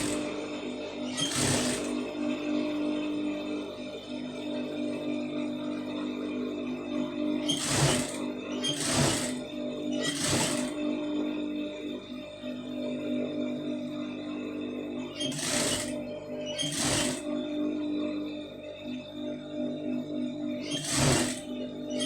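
A sewing machine stitches along a folded quarter-inch fabric hem, a low steady mechanical hum under several sharp, evenly spaced clicks or taps.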